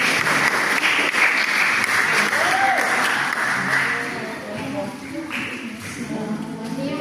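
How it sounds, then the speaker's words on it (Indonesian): Students at a high school media literacy session in Purwokerto applaud to welcome a guest speaker, a sustained crowd of clapping that fills the hall and then thins and softens partway through, with voices faintly present underneath. "Tepuk tangan dulu dong Mbak"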